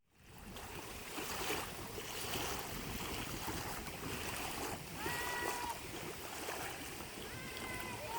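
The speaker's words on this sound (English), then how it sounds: "I was trying to give you a little bit of the water, like ASMR style" Lake water laps and splashes at a swimming area beside a dock, steady and close with wind buffeting the microphone throughout and faint distant voices behind.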